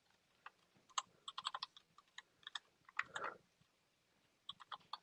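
Typing on a computer keyboard: irregular bursts of quick, close key clicks with short pauses between them, quiet and without talk.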